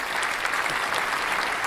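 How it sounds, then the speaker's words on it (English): Steady, dense applause from a crowd, added as an editing sound effect, runs continuously and evenly throughout with no voices over it. "There, that sounds a lot more realistic, sort of applause."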